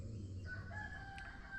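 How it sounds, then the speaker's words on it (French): A rooster crows at a distance on a jungle hillside near Phuket, the call long and drawn out, faint over steady ambient noise, with no talk. "J'entends un coq chanter."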